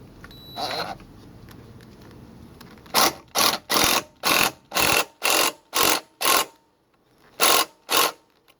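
Craftsman ratchet turning a 17 mm socket on a GY6 49cc scooter variator, giving a run of eight quick, evenly spaced clicking bursts followed by two more after a short pause, close and crisp with no talk.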